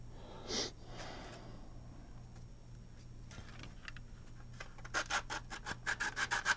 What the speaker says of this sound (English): if you ain't making that sound, you're not sanding something off